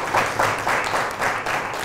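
An audience at a school play at Lycée Seydou Nourou Tall clapping for a student actress, a dense burst of applause pulsing in loose waves, fairly loud and close.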